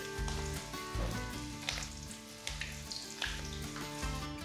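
Methi (fenugreek) vadas shallow frying in hot oil in a pan, giving a soft, continuous sizzle and crackle, with rhythmic background music playing underneath.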